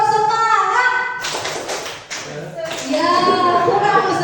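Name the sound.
group doing the rhythmic 'tepuk semangat' spirit clap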